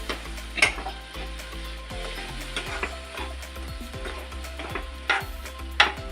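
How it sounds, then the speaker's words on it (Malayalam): Pieces of beef are being mixed into a vinegar pickle mixture in a pan, making soft sizzling and irregular spoon scrapes with a few sharper clinks against the metal, fairly quiet and with no talking. "ഇനി ആ ഇറച്ചി എടുത്ത് നമ്മൾ അതിനകത്തോട്ട് മിക്സ് ചെയ്യണം. എല്ലാം കൂടെ ഒരുമിച്ച് മിക്സ് ചെയ്യാം."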